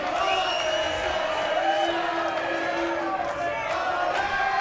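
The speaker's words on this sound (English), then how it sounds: "The Irish fans are now in full voice here as we're coming down the stretch." Irish fans at a McCormack versus Machado fight roar and chant loudly in a dense, sustained crowd noise, with sung and shouted voices rising and falling throughout.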